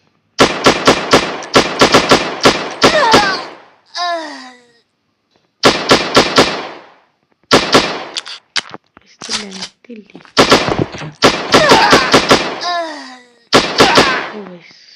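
Rapid bursts of automatic gunfire in the shooting video game Cover Strike, in repeated volleys, loud and close, with short pauses and brief bits of speech between the bursts.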